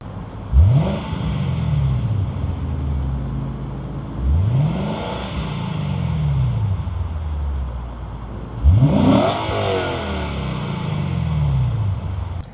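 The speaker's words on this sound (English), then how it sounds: "I'll insert the OEM exhaust revving clip right here first" A stock OEM exhaust on a Lexus RC F sedan-style V8 coupe revs three times, each blip rising sharply and then falling back to a steady idle rumble, heard close and loud with no talking.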